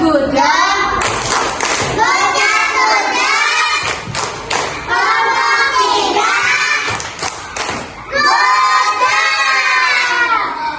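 Third-grade pupils in an Indonesian elementary classroom clap in rhythm for a group, loud and close, with thudding beats and their voices chanting and shouting loudly along throughout.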